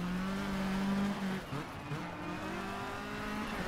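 Rally car in the racing game DiRT 2 drives with a steady, droning engine note and a slight dip in pitch partway through, accompanied by continuous road and tyre noise.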